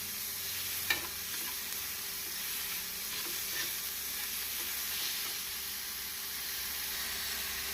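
Chopped onions sauté in a pan for an egg masala omelette, a steady soft sizzle and hiss with a few faint stirring scrapes and one brief knock near the start, close and even throughout.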